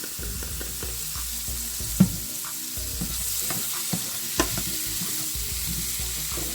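Minced garlic sizzles steadily in a hot pan while a utensil stirs it, giving scraping taps over a constant frying hiss, close and with no talking.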